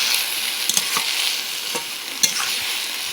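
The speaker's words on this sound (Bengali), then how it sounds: "দেখো থালাটা কেড়ে এবার একটু নাড়িয়ে নিচ্ছি।" Half-cooked vegetables are stirred in a pan after the plate covering it is lifted, producing a short stretch of steady sizzling with a few spatula scrapes and taps, with no voices.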